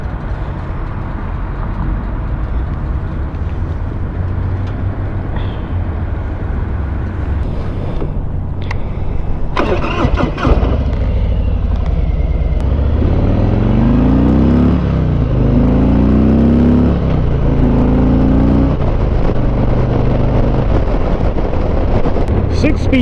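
A Harley Davidson Ultra Limited motorcycle rumbles under heavy wind noise on the road, its engine dipping almost to a stall and then revving up with rising pitch sweeps while the rider talks over it.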